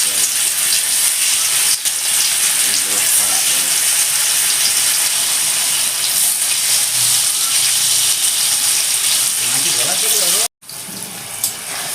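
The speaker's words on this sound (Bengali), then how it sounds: "পনিরটা ভাজা হয়ে গেছে, এবার আমি পনিরটাকে তুলে নেব।" Paneer cubes frying in hot oil in a kadai, a steady loud hiss and sizzle lasting several seconds with a brief break near the end, with no talking.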